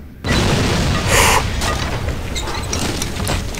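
A sudden loud boom from an explosion in the video game No One Lives Forever 2 bursts in, followed by a rumbling roar and crackling debris that linger at a high level.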